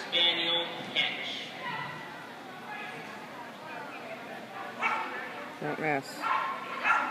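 A 7-year-old American Cocker Spaniel barks in short, yappy bursts at a NADAC dog agility trial, the barks mixed with an announcer's voice and background crowd noise.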